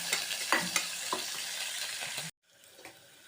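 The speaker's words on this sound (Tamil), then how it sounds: "ரெண்டு பச்சை மிளகாய் கீரி வச்சுருக்கேன், அதையும் சேர்த்துடலாம். நல்லா வதங்கட்டும்." Onion and green chillies sauté in hot oil for vegetable pulao, a close crackling sizzle with spatula scrapes and stirring clicks that cuts off abruptly into a quiet, faint room tone.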